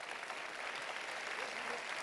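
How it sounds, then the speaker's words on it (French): An audience at a ChangeNOW 2024 fireside chat applauds, a dense, even wash of many hands clapping that stays steady and fairly distant for about two seconds. "On applaudit."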